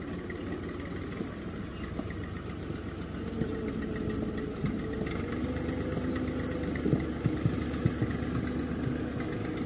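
A Massey Ferguson MF 240 tractor stuck in deep mud runs with a steady, throbbing diesel engine note, holding a constant rumble throughout with slight surges as it labours.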